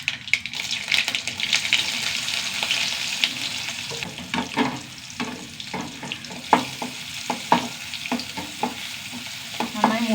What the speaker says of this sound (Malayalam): കുറച്ച് കടുക്, കുറച്ച് ഉള്ളി ഇട്ട് കൊടുക്കുക